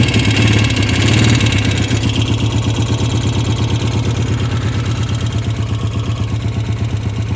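A 1959 MV Agusta 150 motorcycle engine idles steadily just after starting, a loud, close, even single-cylinder thrum with a rapid regular pulse that eases slightly after the first two seconds, no voices.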